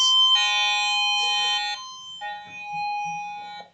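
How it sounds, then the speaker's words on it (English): A cheap $5 Harbor Freight wireless doorbell plays a loud, shrill multi-tone chime close up, stepping through a few synthetic notes and ending abruptly. "Here I have the world's most annoying doorbell."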